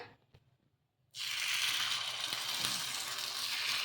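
Ponganalu batter dropped into hot oil in a paneer pan: after a second of near silence a loud, dense frying sizzle bursts up and holds steady, close and bright.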